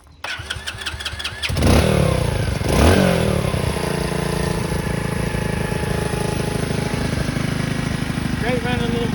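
An Xpro X25 125cc motorcycle engine cranks and fires, catching after about a second and a half with a couple of revs, then settles into a steady, close idle that continues to the end.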